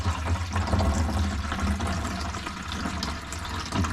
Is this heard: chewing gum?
no